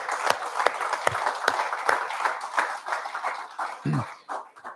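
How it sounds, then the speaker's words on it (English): Scattered audience clapping at a military change of command ceremony, individual claps distinct and irregular, moderately close, with a brief voice or noise burst near the end. "Let's give these 3 kids a big round of applause"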